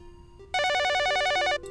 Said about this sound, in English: Whoa, the phone rang.